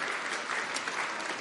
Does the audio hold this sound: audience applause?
yes